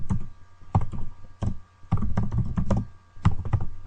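Typing on a computer keyboard, with bursts of quick key clacks broken by short pauses. It sounds close and fairly loud, and no one talks.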